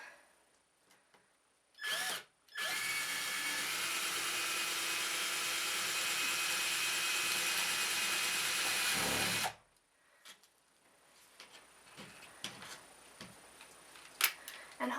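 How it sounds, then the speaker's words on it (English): Cordless power drill fitted with a Phillips bit driving a screw into a wall, one brief blip then a steady whirring run of about seven seconds, close by, followed by faint handling noises. "what I'm going to do is taking my drill again, but I put a Phillips head bit in here so that I could actually screw this into the wall"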